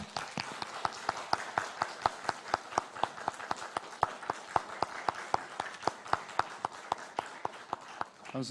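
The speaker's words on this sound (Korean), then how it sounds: "목사님 나오실 때 크게 박수로 환영하도록 하겠습니다" A church congregation claps together to welcome the pastor at a Holy Week evening revival service, in a steady, even rhythm of sharp unison beats about four per second, moderately faint and sustained for several seconds.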